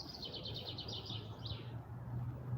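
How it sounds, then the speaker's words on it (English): Birds sing in the trees of a quiet churchyard, a quick run of high chirps followed by a second short call, moderately distant over soft outdoor ambience. "You can literally hear the birds in the trees around here."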